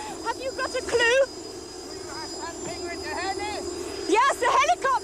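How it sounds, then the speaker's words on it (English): A helicopter on a Swiss treasure-hunt game show in 1987 drones with a steady engine rumble underneath people talking loudly over it. "Yes, the helicopter."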